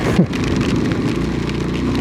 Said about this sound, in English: And the rain is getting intense,